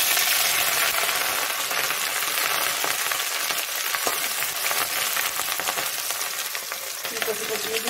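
Ginger dropped into hot oil for cauliflower paratha sizzles loudly and steadily, a dense close frying hiss with faint stirring clicks throughout.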